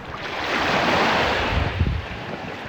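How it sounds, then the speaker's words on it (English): Wind rushes steadily through the original outdoor ambience of a travel shoot, a broad, loud roar with surf-like swells and low buffeting gusts against the microphone, no voices. "Wind blowing."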